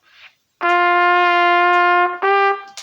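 A trumpet plays two sustained, bright notes, the first held long and the second shorter after a brief break, loud and close with no talking.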